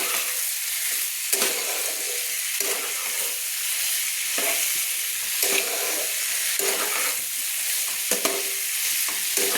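Potatoes and kohlrabi sautéing with salt in a pan for a vegetarian kohlrabi dalna, a constant loud sizzle broken by regular scraping stirs of a spatula against the pan, with no talking over it.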